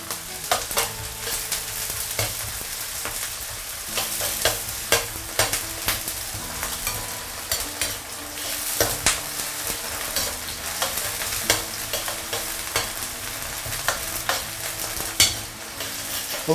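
Scallions fry in hot oil for fish cooking, a dense, steady sizzle with crackling pops and occasional stirring clinks throughout, with no talk.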